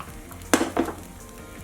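Neer dosa batter is poured into a hot pan, giving two quick, close sizzling bursts a moment apart before the frying settles into a low hiss.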